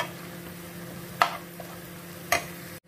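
Red chili powder and turmeric powder stirred in a pan while cooking mutton kheema, heard as two brief scraping strokes about a second apart over a low, steady background hum.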